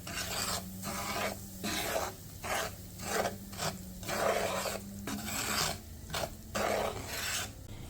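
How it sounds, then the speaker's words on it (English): A spoon stirs cream of wheat as it toasts in vegetable oil in a pan, giving a steady rasping scrape in repeated strokes, each pass about half a second long and close up, with no talking. "you want to keep stirring until this turns a golden brown"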